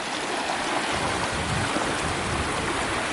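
A small seasonal creek on the Pacific Crest Trail flows over loose rocks at a stream crossing, a steady broadband rush of water heard close by, unbroken and without voices.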